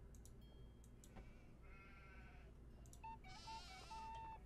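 A sheep bleats a few times in the game Nancy Drew: The Haunting of Castle Malloy, short nasal cries over a quiet background hum with faint clicks, fairly near and moderately loud.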